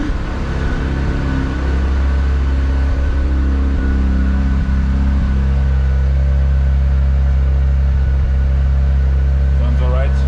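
A Mazda RX-7 engine idles high and steady just after start-up, a continuous close-up hum with a strong low drone and even overtones, with a brief rise in pitch near the end.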